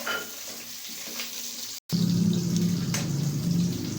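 Garlic and onion sizzle in hot oil in a pan for a Filipino patola and sardine dish, with a brief cut and then a louder, steady frying hiss and stirring close by.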